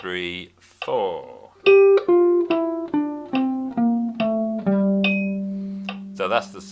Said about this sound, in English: So that's the sound of the Dorian scale descending.